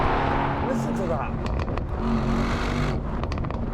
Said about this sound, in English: talking about the incredible sound of both of these V8s